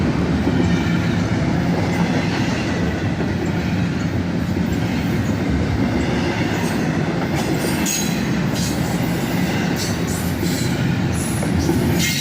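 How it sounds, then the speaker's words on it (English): A CSX freight train rolls steadily past at close range in summer, a loud continuous roar of wheels on rail with rhythmic clacking and occasional high squeals over the full length. "Here comes that second locomotive now."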